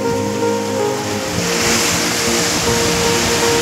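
Sea waves washing onto a beach at high tide in rainy weather, a steady broadband roar of surf with continuous wash and light wind, close and fairly loud throughout, with no voices.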